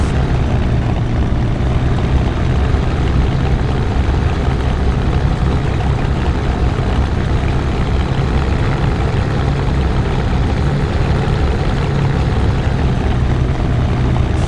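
The Bf109 K4 engine idles steadily on landing approach in the DCS flight sim, a continuous loud, broadband drone and propeller rumble with low hum, unbroken and without speech.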